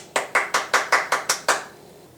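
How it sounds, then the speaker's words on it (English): Eight sharp hand claps in a steady, even rhythm, close and fairly loud, after a stack of pancakes is finished, trailing off into quiet. "Round of applause."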